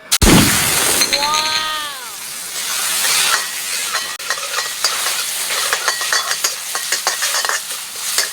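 Seafood hits a hot wok with a loud hiss, then a spatula scrapes and clatters rhythmically as the ingredients sizzle during stir-frying of glass noodles with holy basil.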